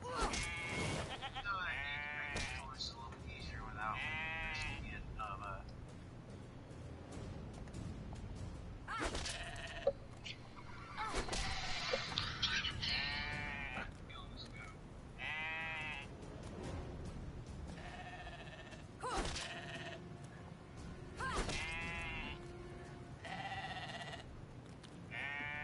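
A goat bleats again and again in the Divinity Original Sin 2 video game, with wavering cries standing out over a busy game soundscape and some sharp clatters.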